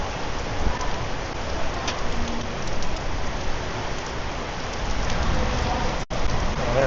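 Heavy rain falling outdoors, a dense, steady hiss of drops on surfaces that stays loud throughout, with brief louder patters and a sudden cut near the end.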